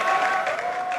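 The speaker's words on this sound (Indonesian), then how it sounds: "mana tepuk tangannya?" A crowd at an MPL Indonesia Mobile Legends esports match applauds in a short, steady wash of clapping while a faint tone holds underneath.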